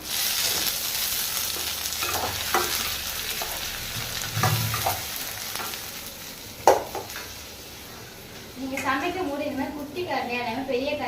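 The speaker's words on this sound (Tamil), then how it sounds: "இப்போ நம்ம இதில் வந்து கருவேப்பிலை சேர்த்துடலாம்" Curry leaves hitting hot oil in a pan while cooking goat blood fry, a steady sizzle with stirring scrapes throughout and people talking over it near the end.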